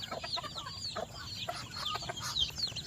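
Healthy young chicks cluck and peep steadily, close by, as they eat duckweed, with bright chirps overlapping in a busy flock and a few soft low clucks underneath.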